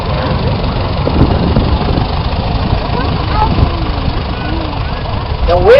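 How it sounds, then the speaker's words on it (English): A 1944 Allis-Chalmers B tractor idling outdoors at a harvest reunion show, a steady low engine rumble running throughout with wind noise and people talking over it. "this is a Deb Losmal's 1944 Alice Chalmers B"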